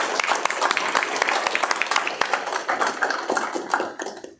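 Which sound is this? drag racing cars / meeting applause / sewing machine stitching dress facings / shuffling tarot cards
meeting applause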